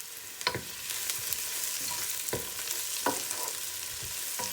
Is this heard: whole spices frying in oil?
yes